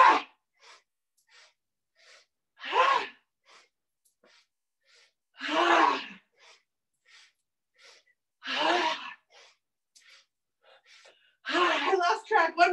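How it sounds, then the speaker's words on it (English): Breath of Joy yoga breathing: five sharp, forceful exhales spaced a few seconds apart, each preceded by faint quick sniffing inhales, close and clear in an otherwise quiet room. "inhale, and then a big exhale."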